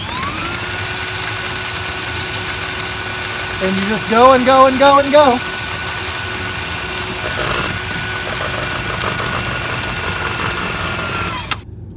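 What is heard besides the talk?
motorized drain auger running to unclog a drain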